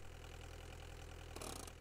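A mobile crane's engine idles in Giant Machines 2017, a low steady mechanical hum with a rhythmic throb, faint and continuous, with a brief brighter burst near the end.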